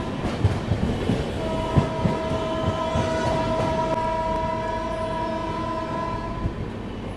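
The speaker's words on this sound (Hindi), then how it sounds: "थोड़ी कम रफ्तार के साथ में अपनी ट्रेन तालों की नगरी अलीगढ़ को स्किप कर रही है भाई" The Bihar Sampark Kranti Express rolls slowly through Aligarh, a steady rumble and clatter of wheels with a long sustained horn blast running through most of the stretch.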